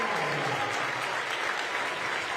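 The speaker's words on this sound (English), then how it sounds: "And you hear the applause as Carpenter and company will head to the bench" A basketball crowd applauds as players head to the bench late in a high school championship game, a steady, moderately distant wash of clapping with murmured crowd noise beneath.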